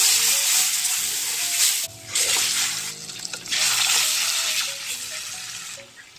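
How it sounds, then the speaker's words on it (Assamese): Fish sizzles and hisses steadily in hot oil in a pan for an Assamese mango fish curry, loud and close, with no talking. "মই এতিয়া মাছখিনি দি দিম"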